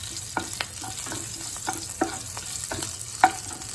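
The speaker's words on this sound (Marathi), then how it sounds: "आपण जे गाजर चिरलेले होते ते या फोटीमध्ये टाकायचे आहे" Chopped carrots being stirred into a hot tempering of fried chilies, with a steady sizzle under repeated close scraping and tapping of a spoon against the pan at an irregular rhythm.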